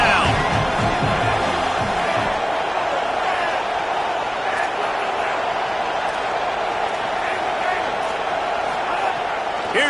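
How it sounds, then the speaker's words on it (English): A large stadium crowd at a college football game roars steadily and loudly as the defense lines up on third down, a sustained wash of cheering that fills the whole stretch. "Decibels rising as the crowd gets behind this defense on 3rd down."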